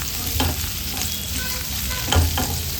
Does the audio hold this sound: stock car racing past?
no